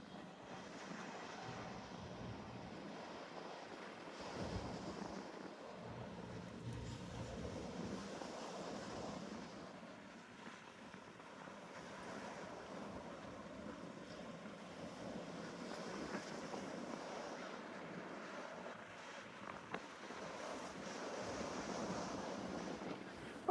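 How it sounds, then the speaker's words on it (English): Wind buffeting a microphone outdoors on a walk, a continuous low rumbling roar that rises and falls in gusts for over twenty seconds, with no voice heard. "I don't know how much wind you could hear just now"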